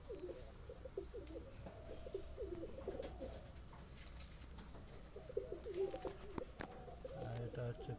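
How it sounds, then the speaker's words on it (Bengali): A pair of Kalshira pigeons coo softly and rhythmically in repeated low bursts, faint and close, with someone talking quietly at moments. "এই হচ্ছে আর এক জোড়া কালশিরা, খুব সুন্দর কোয়ালিটির পায়রা।"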